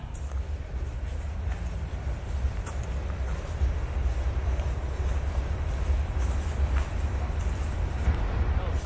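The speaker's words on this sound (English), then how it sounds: "Sounds like I'm just in time for the train down here" A train rolls past on a railroad along a hiking trail in the Ouachita Mountains, a steady low rumble of wagons that holds evenly throughout without breaks.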